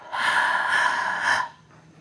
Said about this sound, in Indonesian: Tarik napas ya.